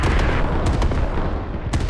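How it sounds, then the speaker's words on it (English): Dense, continuous rumble of many overlapping explosions from a circular airstrike in the video game Squad, with sharper blasts cutting through a constant heavy roar, loud and sustained throughout. "Oh my gosh, look at all those explosions."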